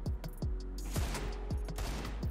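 Gunfire in the video game CS:GO, a rapid burst of sharp shots in quick succession followed by further single and grouped shots, steady and fairly close, with no talking over them.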